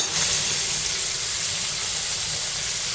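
Food frying in a pan gives a loud, steady, continuous sizzling hiss that holds evenly from start to finish, with no talking.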